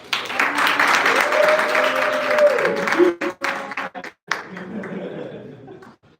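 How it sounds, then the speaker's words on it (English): Convention audience applauding, a dense wash of clapping that holds steady for about three seconds, then breaks up into scattered claps and chuckles before fading out. "Let's give him a round of applause."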